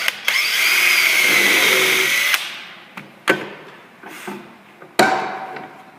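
A power drill bores a shallow countersink hole for a screw, running loud and steady for about two seconds, then stopping, followed by a few sharp clacks and knocks of the tool being handled.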